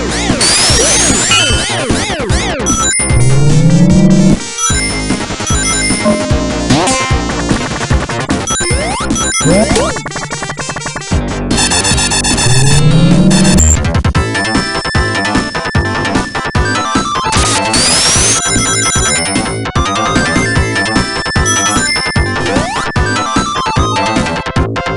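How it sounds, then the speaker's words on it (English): Sonic 3 & Knuckles video game music plays loud and continuous, a dense, busy soundtrack of bright synth melodies, fast percussion and sweeping effects with no talking. "You can't say that this music doesn't make you feel some type of way. This is beautiful."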